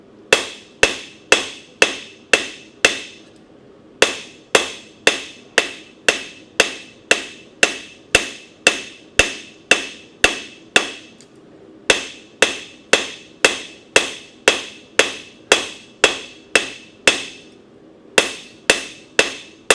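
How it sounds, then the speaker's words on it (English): Steel struck by a blacksmith's hammer while forging a bevel, a loud close series of ringing blows in steady bursts of four to six with brief pauses between sets. "I'm forging in the bevel right now"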